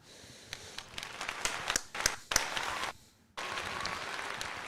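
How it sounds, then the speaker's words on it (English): Scattered applause, with a few sharp individual claps standing out over a low, uneven patter, then a sudden drop to near silence before the clapping resumes. "That deserves a round of applause"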